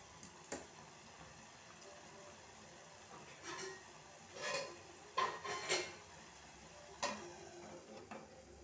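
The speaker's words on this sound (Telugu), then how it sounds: "కొంచెం మూత పెడదాం." A lid goes onto a pot of tomato curry with lemon added, making a few light metallic clinks and knocks that fall at uneven intervals over quiet kitchen background.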